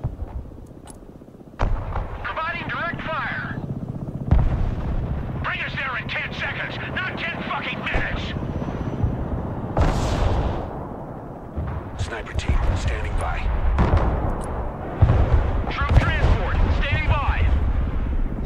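Artillery fire in the Broken Arrow real-time strategy game, several loud booming bursts spread across the span with rumbling tails, heard under frequent talking between players.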